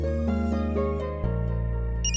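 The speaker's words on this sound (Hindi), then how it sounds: "Madam phone." A steady electronic phone ringtone plays a repeating melodic pattern indoors, continuous and fairly loud, with no one speaking over it.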